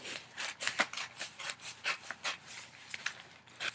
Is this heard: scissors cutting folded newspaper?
yes